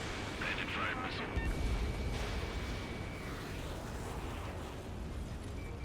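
Missiles launch and explosions burst in the jet combat game Ace Combat 7, a dense rumbling battle mix heard at moderate level with talk running over it.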